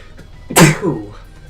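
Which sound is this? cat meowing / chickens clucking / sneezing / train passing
sneezing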